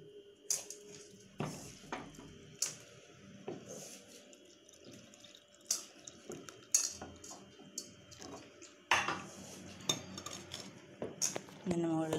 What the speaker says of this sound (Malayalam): നമ്മൾ തിളപ്പിച്ച് ഇവിടെ വെച്ച പാല് ഒഴിക്കുക അതിലേക്ക്